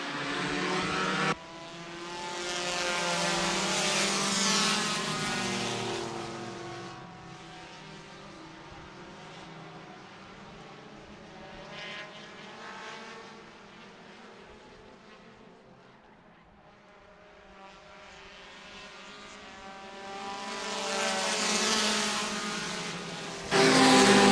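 Outlaw Late Model race cars roaring past under green flag racing at a dirt oval, engines swelling loud as the pack passes close, fading to a distant drone, then surging again.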